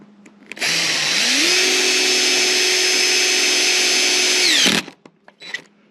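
A power drill drives a screw into lumber in the sun, one continuous whine of about four seconds that steps up in pitch as it speeds up, loud and close, then stops abruptly with a brief clatter afterward.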